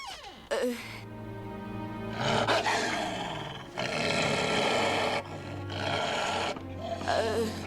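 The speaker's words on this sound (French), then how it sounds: "Tu lui fais peur. C'est pour ça qu'elle grogne." A white she-wolf growls and snarls in an animated series, with sustained deep roaring growls in several long, loud bursts separated by brief pauses, close up and with no talk over them.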